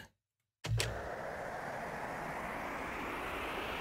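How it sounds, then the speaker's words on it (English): A synthesized jet sound effect from an electronic music build-up hits suddenly after a moment of silence with a sharp impact, then settles into a steady, wide roaring wash. "this jet sound I made years ago, but I love it for the impact"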